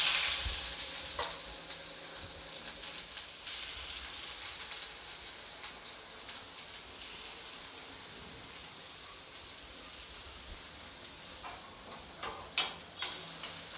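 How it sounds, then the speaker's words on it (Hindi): Chopped onion frying in hot oil with cumin and ajwain seeds for bhindi do pyaza, a steady soft sizzle with occasional stirring clatter and a brief utensil knock near the end, no voices. "प्याज को मैं अच्छी तरीके से गोल्डन ब्राउन होने तक मैं भून लूँगी।"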